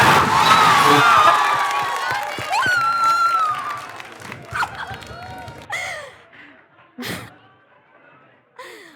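A studio audience at a guess-the-star game show cheers and applauds loudly, with shouts and whoops swelling at first, then thinning into scattered bursts of clapping and cries as the crowd settles.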